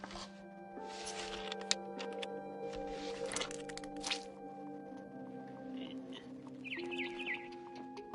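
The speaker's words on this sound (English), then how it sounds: "Then I heard chirping outside my window. It was a barn swallow going back to her nest." A barn swallow chirps in What Remains of Edith Finch, giving short bird calls over a steady tonal game ambience with no voices.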